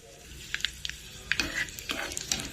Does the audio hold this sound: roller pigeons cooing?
no